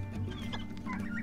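Chickens cluck steadily close by while being offered winter treats by hand, their soft, overlapping calls running throughout the short stretch.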